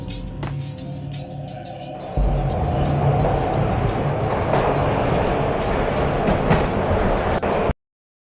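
A moving train in the video game Max Payne on PS2 rumbles and rattles steadily, growing louder partway through and sustaining a dense, close clatter with no speech over it.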